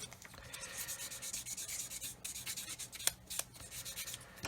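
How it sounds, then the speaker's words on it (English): Polishing stick rubbed over scratches on a plastic part of a Revell 1/144 Apollo Saturn V scale model: soft, continuous scratchy rubbing in short back-and-forth strokes, quiet and close, with no talking. "I'm going to get my polishing stick and just polish the scratches I've just put in it."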